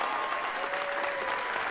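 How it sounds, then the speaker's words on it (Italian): Steady applause from a studio audience, an even wash of clapping hands with no breaks, heard alone without talk for about two seconds. "grazie per gli applausi"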